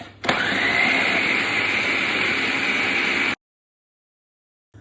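A blender whirs loud and steady as it purees onion into a thick roasting paste for a gingerbread-spiced lamb raan, running for about three seconds before cutting off abruptly into silence.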